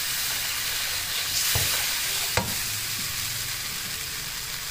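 Milk being whisked into a white sauce for chicken lasagna: a steady low hiss from the pan with soft whisk swishes and a couple of sharp clicks against the pot.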